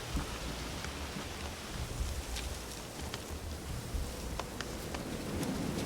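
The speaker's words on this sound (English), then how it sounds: "Looks like rain." Steady rain hisses and patters in The Witcher 3, with a low rumble of thunder in the background and occasional sharper droplet ticks.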